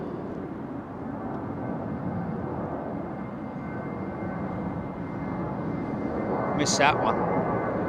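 A jumbo jet roars steadily at London Heathrow, a broad continuous rumble swelling slightly louder toward the end, with a person speaking briefly over it near the close.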